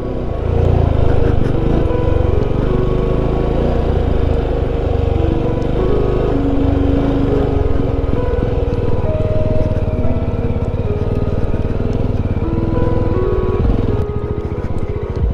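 A Jawa motorcycle rides through the dark in north-east India with a continuous, loud engine drone and rumble. The sound stays steady and near throughout, with no talk.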